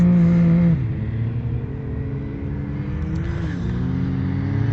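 RZR side-by-side off-road vehicles on sand dunes produce a steady engine drone with a shifting pitch, loud and continuous, and no talking is heard.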